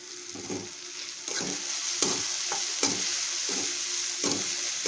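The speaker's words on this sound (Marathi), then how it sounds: "जरा मी तेलात कोथंबीर टाकते" Coriander leaves frying in hot oil while making a simple breakfast dish with roasted tomato, a steady close sizzle broken by regular scraping stirs of a spoon in the pan.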